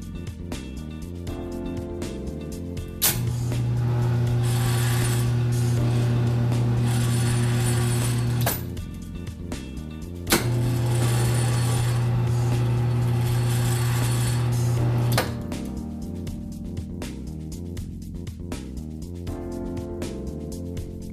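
KJ1000 gate operator motor running under test, two long steady electric hums of about five seconds each, each starting with a sharp click, with mechanical clicking in between and after.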